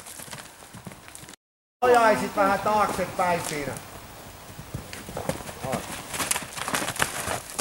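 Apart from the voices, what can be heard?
pony hoofbeats while being ridden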